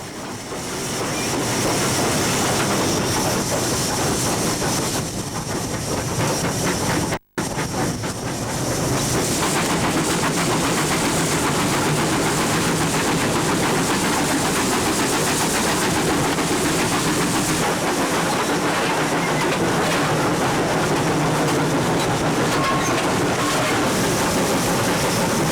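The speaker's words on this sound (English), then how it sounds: "handling the 97-year-old loco as we climb the Boko Bank" A 97-year-old steam locomotive hauling its train up the Boko Bank, a loud continuous rumble of wheels and working engine with hiss, briefly cut out once near the start, and no voices.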